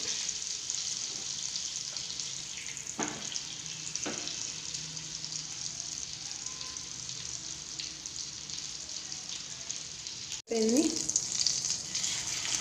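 Pieces of fish fry in hot oil in a pan. A steady soft sizzle runs throughout, with a few light clicks of utensils and a sharp knock and louder splutter near the end.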